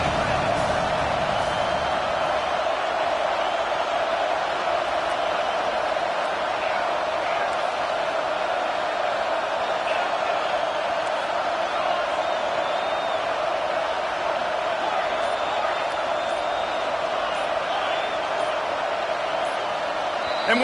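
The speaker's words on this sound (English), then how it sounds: "And with this place rocking, the crowd forces a false start." A loud, roaring stadium crowd at a Texas college football game fills the whole stretch with a steady wall of noise, while an announcer's voice talks over it.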